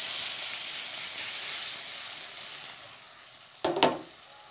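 Lentil batter for dhokar dalna sizzling as it hits hot oil in a pan: a steady broad frying hiss throughout, with a louder burst of crackling near the end as more batter goes in.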